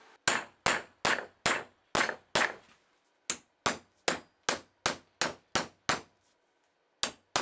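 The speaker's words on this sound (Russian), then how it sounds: "выбиваю остаток с помощью молотка и стамески." Hammer blows on a chisel knocking the leftover piece of an old axe handle out of the axe head, a steady series of sharp metallic strikes, about a dozen close loud clangs with brief gaps and a pause midway.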